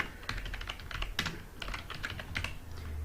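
Rapid keystrokes on a computer keyboard while entering text, a quick run of light clicks in short bursts, close and fairly quiet, with no voices.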